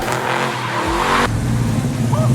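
A car engine revs up loudly, with a sharp rising burst and tire-squeal-like whine, then settles into a steady, close, heavy rumble.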